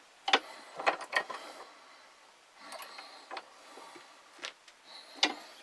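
A bent wire trap spring is squeezed together in a metal vise. Sharp metallic clicks and creaks come in scattered bursts, close and fairly crisp, with quiet gaps between them and no voice.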